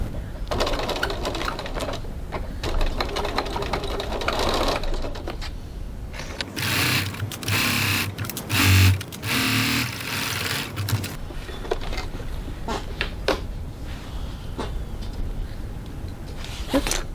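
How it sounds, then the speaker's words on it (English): A sewing machine stitches a fabric seam one centimetre from the edge with a steady, rapid mechanical whirring and clatter. It stops and restarts in bursts, with a louder stretch in the middle and some faint background voice. "Stitching 1 centimetre, 3/8 of an inch from the edge."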